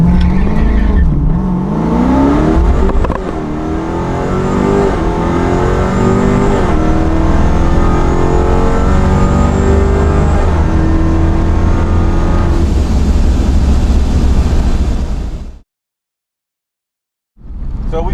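A procharged 426 Dodge Challenger Scat Pack running around 1000 hp launches down a drag strip on all-season tires with traction control on, its engine roaring loud and sustained with rising and falling revs before cutting off abruptly.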